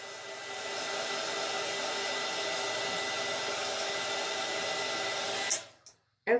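A hair dryer blows steadily at close range while drying chalk paste on a craft surface, running continuously for about five and a half seconds before switching off with a few brief sputters.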